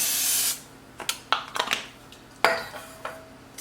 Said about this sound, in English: I'm just going to spray it with this olive oil spray